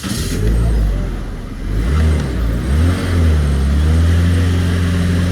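A motorcycle engine fires up and revs close by, its loud, low drone swelling and dipping with several throttle blips before settling into a steady run.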